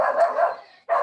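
Dogs barking nearby, a quick run of sharp yapping barks, then a short gap and another bark.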